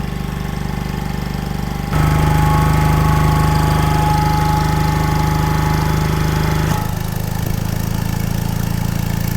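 An old, rare air compressor running hard, a loud continuous mechanical engine drone with a rapid knocking pulse, then an abrupt change in tone as it unloads and settles into a lighter, steadier run near the end.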